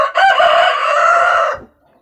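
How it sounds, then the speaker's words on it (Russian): A rooster crows loudly and close by, one long drawn-out call lasting about a second and a half before cutting off into quiet. "у петуха надо горло продрать, орёт"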